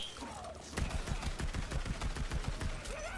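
Rapid Maggie pistol fire in Borderlands 3 sounds as a fast train of sharp shots, about a dozen crisp reports in quick succession, with game effects swooping around them.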